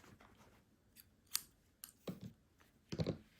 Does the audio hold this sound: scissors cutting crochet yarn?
yes